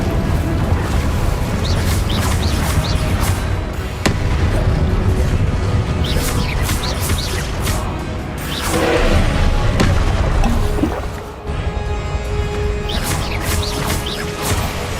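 A fire spell, Incendio, cast in combat in Hogwarts Legacy on PS5, erupting in a loud, dense burst of booming impacts and crackling roar amid continuous battle effects.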